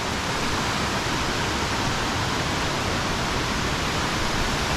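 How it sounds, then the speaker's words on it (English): A steady, dense roar of a waterfall on the Cabot Trail in Nova Scotia fills the air, loud and unbroken from start to finish. "And there is the waterfall."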